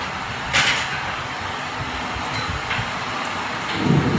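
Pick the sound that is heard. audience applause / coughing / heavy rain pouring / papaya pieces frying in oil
heavy rain pouring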